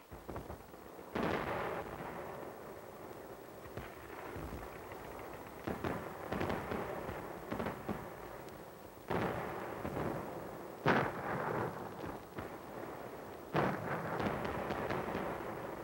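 Battle sounds of gunfire and artillery as infantry fights up a hill in Korea in winter, with repeated booming blasts and bursts of shots spread across a rumbling, fairly distant background and no voices.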